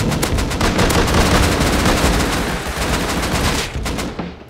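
Rapid gunfire in the Rust survival game, a dense, loud volley of shots in quick succession that carries on steadily before easing off near the end.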